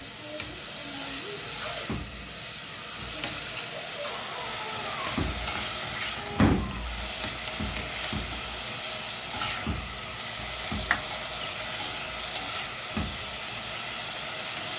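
Onions fry in oil in a pan until browned, a constant bright sizzle and hiss under occasional stirring knocks and scrapes, heard close up with no voices.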